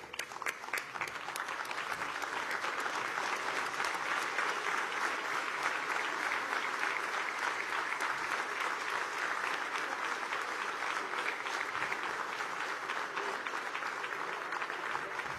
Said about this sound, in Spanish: Nos ponemos de pie para aplaudir la cultura y la oratoria